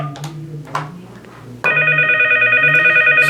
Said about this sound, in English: So I'm going to go to call this phone.